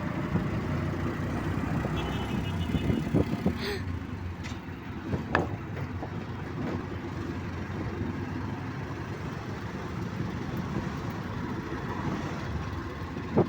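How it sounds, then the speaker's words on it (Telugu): Steady engine rumble and wind while riding in an auto rickshaw, a continuous low drone with brief rattles and knocks, people talking under it. "మనం ఇప్పుడు ఆటో ఎక్కాము"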